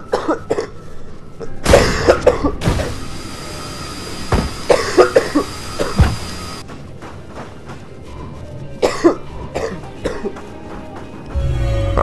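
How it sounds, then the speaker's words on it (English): A person coughing and clearing their throat several times in loud, close bursts over game sounds, with a long steady hiss in between and a low rumble at the end. "Once again, I'm so sorry for my cough."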